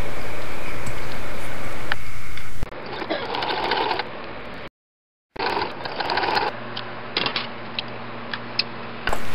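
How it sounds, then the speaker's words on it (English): A sewing machine runs loud and close while stitching the shoulder and side seams of a peplum top bodice. The steady mechanical whir is broken by a brief full stop partway through. "we're going to pin around the shoulders and down the sides. and we're going to sew those as well."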